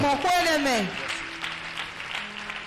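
A church congregation breaks into applause, a dense steady clapping that follows a loud voice at the start.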